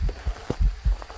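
A heartbeat in the horror game Phasmophobia thumps in a quick, regular rhythm of low, muffled beats, close and fairly loud, with no speech over it.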